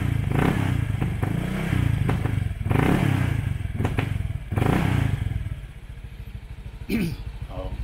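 A Honda Click 125 scooter fitted with a Hero Power Pipe exhaust revs in short bassy bursts close by, then settles into a rough putter at idle, with a person talking over it.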